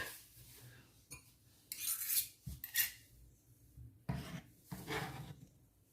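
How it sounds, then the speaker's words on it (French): Knife chopping hot chili pepper finely on a board for Haitian pikliz slaw, heard as a few soft scraping rubs and brief taps close by, with quiet gaps between strokes. "Donc je coupe finement mon piment"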